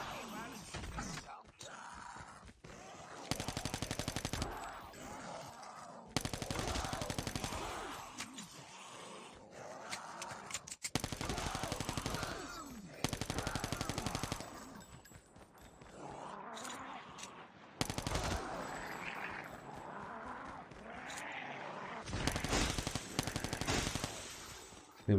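Rapid automatic gunfire and bursts of shots from zombie-mode combat in COD Mobile Undead Siege, loud and near, in repeated long volleys with short pauses, game effects and occasional grunts mixed in.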